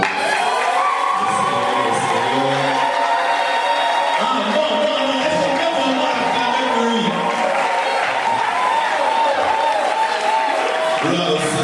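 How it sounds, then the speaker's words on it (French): A church congregation claps and cheers continuously, with dense applause, shouts and whoops filling the room from start to finish. "Est-ce que tu peux acclamer maintenant pour les hommes de Dieu?"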